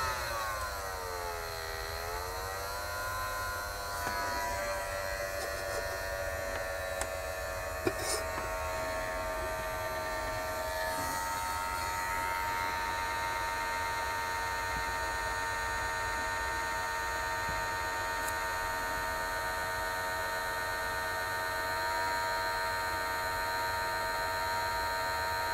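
A hot air tool runs at maximum heat with very low airflow, giving a steady hum and faint whine, with tones gliding early on before settling into a constant drone, alone throughout.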